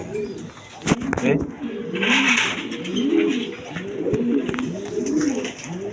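Red Gola pigeons coo in soft, repeated rolling phrases close by, with a sharp click near the start and faint background noise around them.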